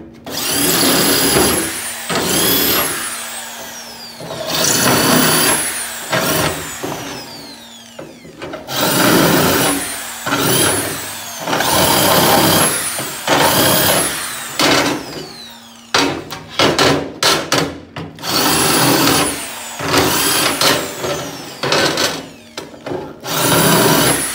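A power drill fitted with a countersink bit cuts screw holes in an aluminum boat hull. The drill spins up loud and close in repeated bursts with a high metallic whine, broken by brief pauses, over roughly twenty seconds. No voices are heard.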